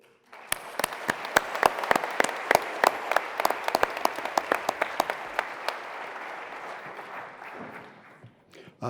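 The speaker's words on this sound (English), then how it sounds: "So I want to ask you for a big round of applause to acknowledge these outstanding space pioneers" A large audience at the IAC 2023 closing ceremony in Baku claps in a sustained round of applause, with loud close claps standing out over the dense crowd clapping before it fades near the end.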